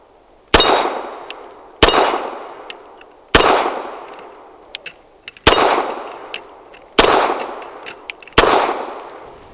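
Rock Island Derya Arms Melik pistol firing Bellum 124 rounds, six loud sharp shots spaced about one to two seconds apart, each ringing out with a decaying echo, small clinks of brass in between, no speech.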